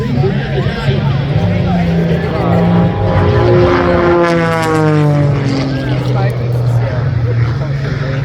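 A loud propeller aircraft drone dominates at an airshow, with its tone shifting as it passes overhead, while an announcer talks over it and crowd noise murmurs beneath.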